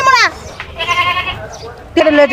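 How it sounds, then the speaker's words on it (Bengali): A goat bleats loudly and close by, three wavering cries separated by short pauses. "আসেন ছাগল দেখবেন ছাগল"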